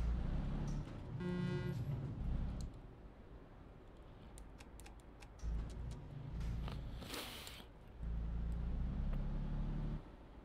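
A quiet Mercedes engine in Euro Truck Simulator 2 drones low and steady, swelling in a few stretches, with faint clicks and brief chirps over it and no talk.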